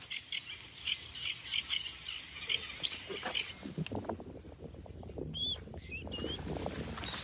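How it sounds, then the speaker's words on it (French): Birds singing to mark their territory in a humid area: a series of bright, repeated chirps close by, followed by fainter scattered calls over a soft rustling background. "Et là les oiseaux qui chantent, ils sont en train de marquer leur territoire."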